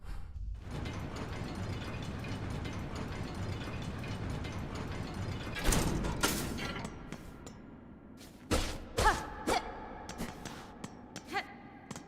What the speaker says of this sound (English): As soon as I enter the elevator...